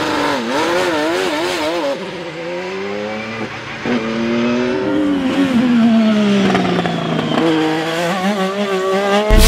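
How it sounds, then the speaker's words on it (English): Hybrid race car engines howl and rev as cars pass close by, pitch rising and falling through gear changes, loud and continuous. "the sound of the cars have not drastically changed"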